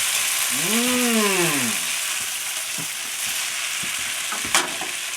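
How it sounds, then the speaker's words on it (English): Drained pasta hits a hot pan and sizzles steadily, a broad close hiss with a few clanks and scrapes near the end; an early rising-and-falling tonal sweep sits over the frying. "So we're going to drain it and transfer it from one pan to the next."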